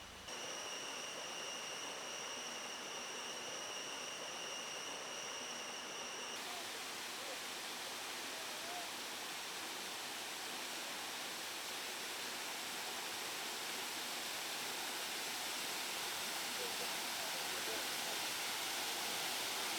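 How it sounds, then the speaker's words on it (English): Steady, broadband roar of rushing water at Katu waterfall in Thailand, a continuous wash of falling water with no clear breaks, fairly close and constant throughout. "Next we went to the beautiful Katu waterfall."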